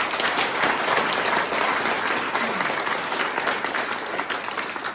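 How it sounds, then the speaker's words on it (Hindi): A seminar audience at a coaching-centre training session breaks into sustained, dense applause that fills the whole stretch at steady loudness, with a faint murmur of voices underneath. "इसके लिए ताली बजाओ एक बार"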